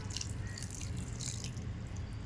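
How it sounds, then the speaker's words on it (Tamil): Water poured into a pressure cooker while making red amaranth leaf gravy, a faint, steady trickle and drip close by with no talking. "இப்போ தேவையான அளவு தண்ணி ஊற்றிக்கிறோம்."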